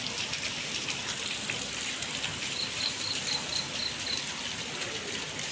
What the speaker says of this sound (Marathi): बघू शकता पाऊस पडतोय.